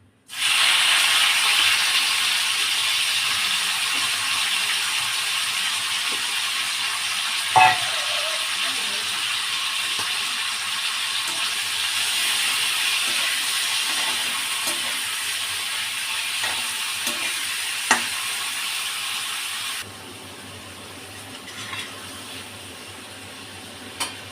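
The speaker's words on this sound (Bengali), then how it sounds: "তেলটা গরম হয়ে গেছে বন্ধুরা, এবার আমি চিংড়ি মাছটা দিয়ে দিলাম।" Prawns for a malai curry fry in hot oil, a loud, even hiss with a few faint clicks and pops that drops away sharply near the end.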